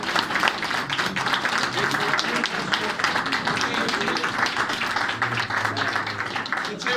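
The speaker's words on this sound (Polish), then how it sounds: "Wielkie brawa!" Concert audience applauds warmly after a Christmas carol concert by a choir at a municipal culture house in Rumia, continuous dense clapping filling the hall for several seconds over faint background voices.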